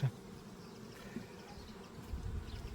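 Honeybees buzz and fan their wings at an open hive during an inspection, some settled on a beekeeper's trousers, giving a faint, steady, close drone that swells slightly toward the end, with no speech.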